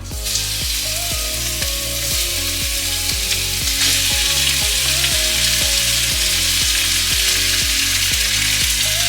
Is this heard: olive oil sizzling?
yes